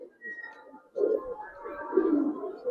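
Giribaz and coloured pigeons cooing close by, soft low throaty coos that swell and repeat across a couple of seconds.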